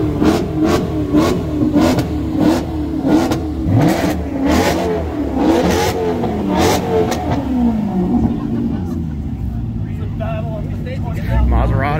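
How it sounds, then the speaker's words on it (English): A Maserati sports car engine revs repeatedly in sharp bursts, then settles into a lower rumble as it pulls away; people talk nearby. "Maseratis sound better than I thought."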